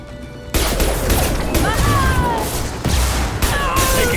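Gunfire and impacts from a firefight in the video game Mass Effect 2 (Legendary Edition): a dense, continuous barrage of shots and crashes with whizzing tones over it, starting abruptly after a quiet opening and staying loud throughout.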